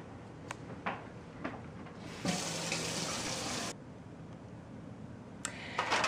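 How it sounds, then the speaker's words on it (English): A kitchen tap runs as hands are rinsed during pork preparation, with a steady close stream of water lasting about a second and a half and soft handling clicks around it. "I'm just going to rinse my hands off."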